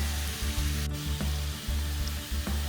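Onion, garlic, ginger and asafoetida fry in a pan for a chickpea curry stew, giving a steady, close sizzle throughout with a few soft stirring knocks and no talk.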